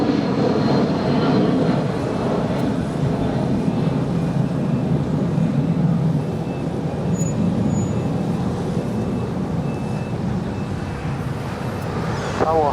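An Alaska Airlines plane takes off from runway 25 right at LAX, a loud, steady engine roar with broadband rumble that holds for the whole stretch without a break.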